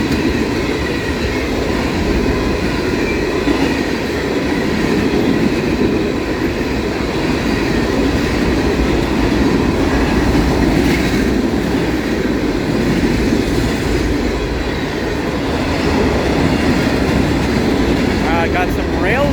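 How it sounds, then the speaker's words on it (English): A freight train rolls past at about 40 mph on an Ohio line, a loud, continuous close rumble with rail clatter throughout, the steady roar holding for the whole stretch. "I don't know what the track speed is, but this train's probably going it."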